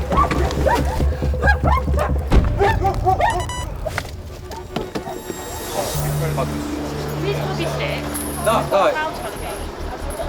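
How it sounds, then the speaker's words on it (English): Police dogs bark in a tense street arrest, several sharp, loud barks and yips up close, mixed with busy voices talking and shouting, plus a steady low rumble of traffic or an idling vehicle. "Oh, we've got the dogs out."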